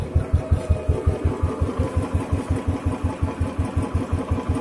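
A Royal Enfield motorcycle engine idles steadily after starting, a loud, close single-cylinder thump beating in an even rhythm throughout, with no talk over it.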